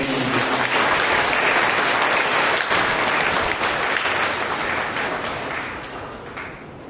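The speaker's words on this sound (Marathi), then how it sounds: "जोरात टाळ्या वाजून आपण गौरव" Loud, sustained clapping from a church congregation at a Monday prayer meeting, dense and steady for several seconds before gradually tapering off toward the end.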